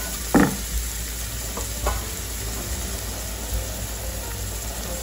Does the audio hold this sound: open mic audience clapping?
no